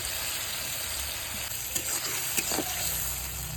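Chopped tomato and onion frying in hot oil, a steady bright sizzle with a few stirring scrapes in the middle, close and continuous.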